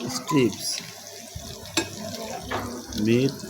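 Meat strips fry in a pan, with soft sizzling and occasional stirring or scraping and some watery splashing, while a person's voice is heard intermittently over the cooking.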